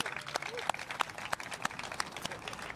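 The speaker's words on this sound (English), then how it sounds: "So can we give a round of applause to everybody that makes Public Works happen in the city?" An outdoor crowd at a boulevard project completion celebration claps for city public works staff, a modest, uneven patter of separate claps with some voices underneath.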